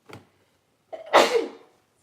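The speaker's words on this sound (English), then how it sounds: "I feel like I'm gonna sneeze." A short sharp intake of breath, then a pause and a single loud, explosive sneeze trailing off.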